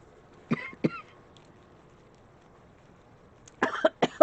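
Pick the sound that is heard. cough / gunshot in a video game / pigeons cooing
cough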